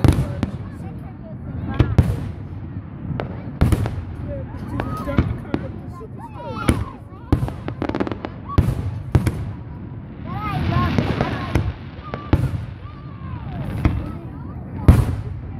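Fireworks explode over a lake in Otter Lake, Michigan, with repeated sharp booms and crackling bursts at irregular intervals, some near and loud, under a steady murmur of people talking and cheering.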